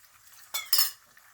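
Two brief scraping stirs of a soaked aloe vera mixture for hand cream, a spoon dragging through the thick blend in a small bowl, close and soft against a quiet background.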